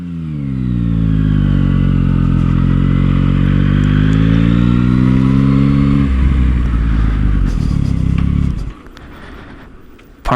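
Yamaha MT09 SP motorcycle, a 2023 model, riding and revving hard with a strong, rising engine note that climbs steadily for about six seconds, then drops into rough idle and a sudden cutoff near the end.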